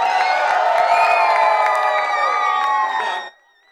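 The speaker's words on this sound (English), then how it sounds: "Everybody scream, come on!" A children's audience at a kids' show screams and cheers loudly together, a dense sustained roar of young voices with whoops that holds for about three seconds and then cuts off abruptly into near silence.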